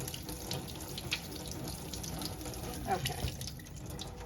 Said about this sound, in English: And then I kind of go and give them a little rinse like this.